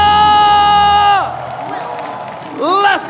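An esports arena crowd at a mobile game tournament match in Bandung cheers and claps, a loud sustained roar that fades after a long synthesized tone ends, with a voice rising through it.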